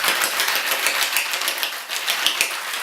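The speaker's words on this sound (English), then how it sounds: "Have you ever wondered what it would sound like if you put liquor and ice in a stainless steel container and shook it?" Ice and liquor are shaken hard in a stainless steel cocktail shaker, giving a continuous, bright rattling clatter of cubes against metal. It is close and steady for the whole stretch, with no talk.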